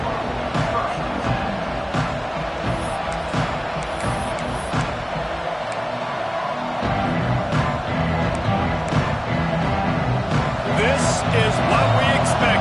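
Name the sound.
football stadium crowd cheering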